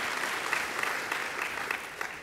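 An audience applauds steadily at a civic State of the Port address, a dense wash of clapping at moderate distance with no pauses throughout.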